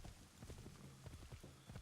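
Horse hooves clip-clopping in the video game Assassin's Creed 3, a steady rhythmic gallop of repeated dull thuds heard alone at moderate loudness.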